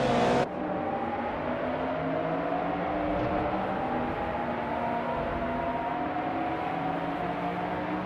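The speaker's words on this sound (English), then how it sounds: "the race has just kicked off at Castle Combe and starting in first place is Bot Empress in a 2004 Saleen 7" A 2004 Saleen S7 supercar in a racing video game, starting a race at Castle Combe: a steady, sustained engine drone with rising revs and a brief sharper burst at the start, with no talking.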